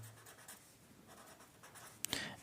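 Pen writing on paper during a Class 8 geometry maths lesson: soft, steady scratching strokes, quiet and close, with a couple of sharper, louder strokes near the end.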